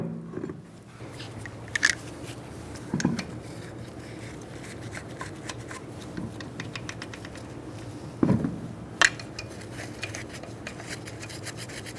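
Small metallic scraping and rubbing as a lug nut is threaded by hand onto the wheel stud of a 2010-2013 Kia Soul, close and quiet, with a few sharper clicks and clinks along the way.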